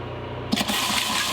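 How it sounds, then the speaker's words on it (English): RV kitchen sink faucet on a 2015 Thor Vegas coughing out water as air clears from the plumbing lines, a sudden burst of spluttering splashes after a low pump hum, then a steady rush. "Definitely got air in the lines, but whew, I'm getting water."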